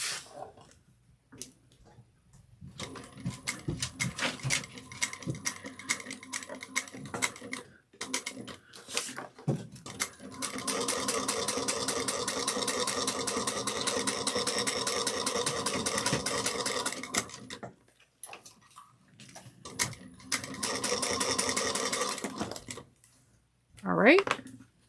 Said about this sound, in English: we're going to now top stitch down, across, and up.